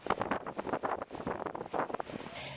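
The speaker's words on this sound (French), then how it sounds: "c'est une énorme tempête qui nous arrive dessus" Strong gusting wind ahead of an approaching storm buffets the microphone outdoors, roaring in loud uneven bursts with no talk.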